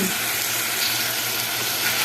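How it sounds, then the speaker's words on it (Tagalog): Water pours steadily into a pan of simmering fish stew, a continuous close rushing splash with a faint sizzle and no talk. "ilagay natin yung ating tubig"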